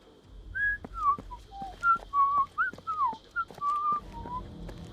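A lone whistler in the Jagged Alliance: Rage video game plays a short, wandering run of notes over a low steady hum, each note clear and fairly close.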